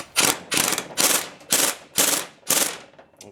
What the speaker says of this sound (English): A little bit easier with the impact gun.